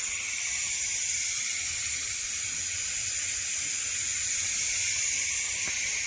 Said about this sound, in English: Pressure's coming out of that right there.